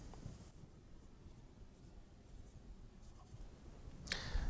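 A hand writes a logic proposition with a pen or marker, giving soft, scratchy strokes in short irregular bursts, close and quiet, ending in a louder tap.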